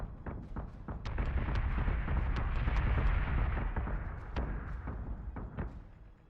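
Salvos of missile fire and impacts in the space combat game Battlestar Galactica Deadlock, a dense rumbling barrage of repeated thuds and bursts that swells and then eases, with no voices.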